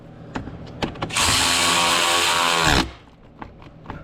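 An electric ratchet whirs loudly for about two seconds tightening a bolt during a Pontiac Vibe radiator fan repair, surrounded by scattered clicks and knocks, then stops abruptly.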